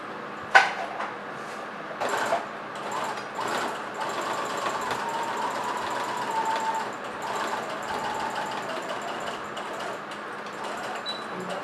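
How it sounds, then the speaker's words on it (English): A sewing machine stitches fabric for a neck placket in quick mechanical runs, pausing briefly for the fabric to be lifted and turned, then continuing in a steady whirring rattle at close range. "Lift up again, turn, and then continue your sewing."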